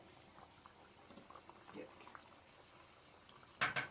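Small stuffed kachoris slipped into hot frying oil, giving a faint, steady sizzle and bubbling that swells into a brief, louder splash and crackle near the end.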